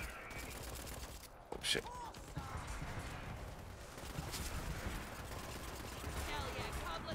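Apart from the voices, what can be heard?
gunfire from a gun with heavy recoil in a video game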